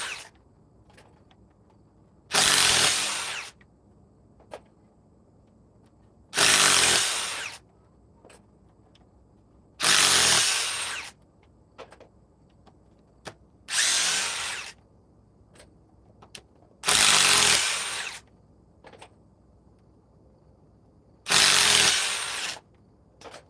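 A Ryobi power drill rated at 2,200 inch-pounds runs in six loud, close bursts of about a second each, separated by quiet gaps, with no speech over the whine.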